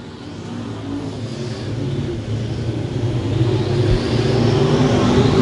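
Late model and stock cars race around a dirt speedway track, a dense roaring engine rumble that builds steadily louder as the pack approaches, heard from trackside without talk.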